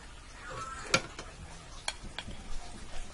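Steaks laid on a basket inside a Ninja pot on a stovetop, giving a soft, steady sizzle with a few sharp ticks and clinks of placement over low background noise.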